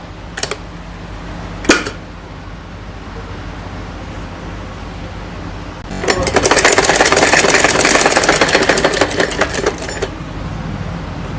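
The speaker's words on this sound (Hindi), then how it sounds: "इसके ऊपर इस प्रकार से सिलाई लगाते हुए इस प्रकार से कॉलर को सेट करते हुए पूरे पर सिलाई लगा लेंगे" Two short taps of a sewing machine come first, then a steady four-second burst of rapid stitching as the collar of a children's night suit is sewn. The machine then falls quiet.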